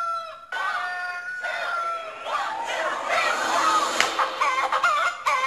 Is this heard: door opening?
no